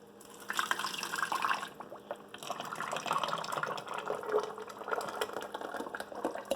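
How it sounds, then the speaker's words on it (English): Thick cold process soap pouring steadily into a bucket, a continuous splashing flow with small drips, fairly quiet. "Now I'm going to pour part of it"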